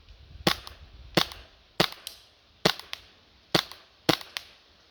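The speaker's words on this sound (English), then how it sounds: "Alright, so I'm gonna fire at the first target and let's see how I do." Action Army AAP-01 airsoft pistol firing six sharp, evenly spaced shots at targets, each a crisp close snap with a short tail, with no talk between shots.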